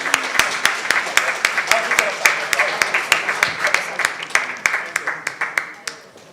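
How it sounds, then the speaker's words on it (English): An audience at a science forum applauds panelists and a moderator, with a steady patter of sharp individual claps for several seconds over a low room murmur. "let's give a very big round of applause to the panelists and to the moderator"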